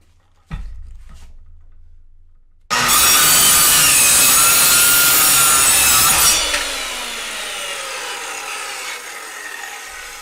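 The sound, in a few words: corded circular saw cutting wood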